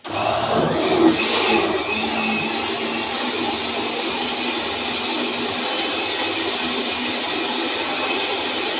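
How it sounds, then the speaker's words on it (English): A blender blending mango juice whirs steadily and loudly at close range, a continuous high motor drone running the whole time with no voices. "I'm going in the blender there"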